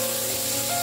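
Shallots and green chillies sauté in a hot pan for an aubergine dish, giving a steady, close hiss of oil sizzling with no break.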